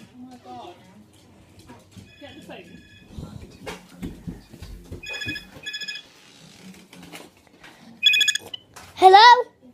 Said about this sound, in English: You said get the phone. I'm not going to answer it.